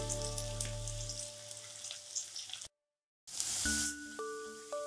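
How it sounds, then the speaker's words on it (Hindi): Garlic and onions frying together in a pan for an aloo baingan curry, a steady close sizzle that cuts off in a brief gap and then resumes with some tonal hum over it. "2 से 3 मिनट तक प्याज के साथ अच्छे से भूनेंगे।"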